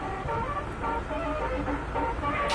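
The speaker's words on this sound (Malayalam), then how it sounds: "നമ്മുടെ എയർ ഹോൺ കാണിച്ചു കൊടുക്കാം അവർക്ക്" Several loud bus air horn blasts sound over road noise, overlapping tones pulsing in a rough repeated pattern from the nearby bus.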